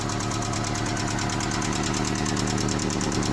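A Mazda engine idles with stuck hydraulic lifters from neglected oil changes, giving a rapid, steady metallic ticking over a low engine hum, close and continuous throughout with no voices.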